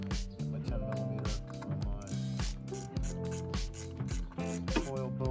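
A 10mm socket ratchet turns an ignition coil bolt on a 2017 Dodge Grand Caravan, giving rapid, close, rhythmic clicking in quick repeated strokes with short pauses between them.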